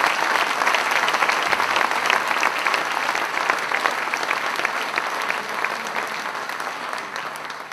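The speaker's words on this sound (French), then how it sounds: "Je vous demande de les saluer, de les applaudir." Sustained applause from a crowd at a French campaign rally, a dense steady wash of clapping that holds at an even level throughout without pause.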